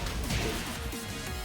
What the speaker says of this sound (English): he was smashed on the ground and he just rolls up